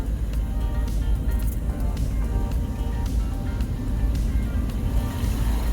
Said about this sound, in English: It's such a pleasure to drive this car again.